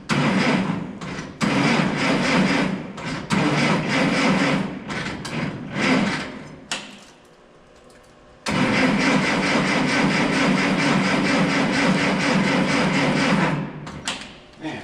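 A car engine cranking repeatedly from cold on a 12-volt battery, with long bursts of starter churning separated by a pause, struggling to catch and fire.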